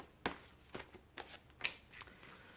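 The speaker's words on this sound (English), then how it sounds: "One more shuffle." Tarot cards being shuffled at close range in a short run of crisp riffling bursts with short gaps between them, no talking.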